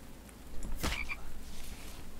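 A single frog croak in The Infected survival video game, a brief mid-clip burst over steady ambient game background noise.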